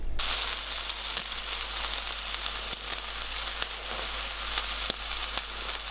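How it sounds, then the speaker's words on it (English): Bacon sizzles and spits in its own rendered fat in a hot pan, a continuous crackling fry with scattered sharp pops, close and fairly quiet. "All I'm going to do now is drain off the fat, get it a little bit crispy"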